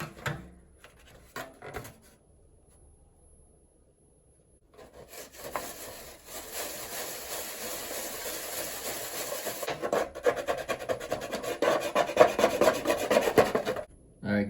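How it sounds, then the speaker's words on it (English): Buffing rust stains on an aluminum foil baking pan: a steady, close abrasive rubbing and rasping that starts after a few quiet seconds and grows louder and denser toward the end. "am going to buff the rust stains that appear to be on here just to make sure it is a permanent mark"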